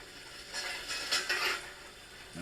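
A soft, rushing hiss swells up and fades away again over a couple of seconds, the water sound from a Kato N gauge steam locomotive soundbox.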